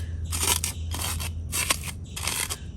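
Crispy fried dried shrimp is crushed into powder in a home kitchen, with four steady rounds of loud, close crackling crunches over a low hum.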